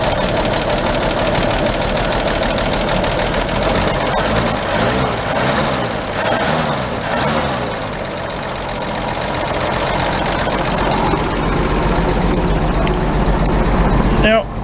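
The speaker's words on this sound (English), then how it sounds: "I'm gonna turn the idle up a little bit." A car engine running loud and close with a rough, knocking mid-range note after intake and exhaust manifold work, its pitch shifting slightly partway through as the idle is adjusted.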